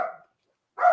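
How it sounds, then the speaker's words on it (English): A dog barks twice, close and fairly loud, with a short silent gap between the two barks indoors. "My dog wants to be on the podcast too."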